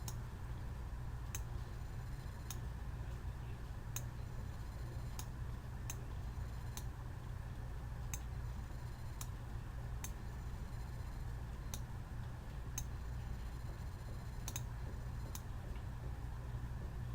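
Computer mouse clicks while dots are placed to trace a shape: sharp, isolated clicks roughly every second or two in an irregular, unhurried pattern, close and fairly faint over a steady low room hum.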